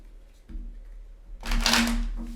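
Tarot cards shuffled by hand, a quiet brief riffle and rustle of the deck close by, rising into a louder snap-and-flutter burst of about one second against a low background hum.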